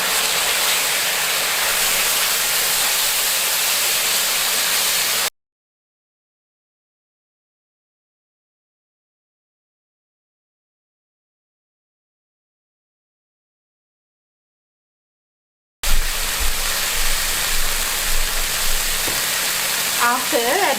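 Onion, garlic and chilies fry in a pan for chicken and vegetable noodles, a close, steady sizzle heard in two stretches separated by a long gap of complete silence, with some stirring in the later part.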